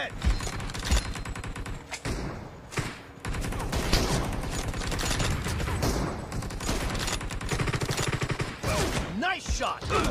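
Rapid bursts of gunfire from the battle-royale game BGMI, including M24 sniper rifle shots, crackle densely and loudly through the scene with brief pauses between volleys.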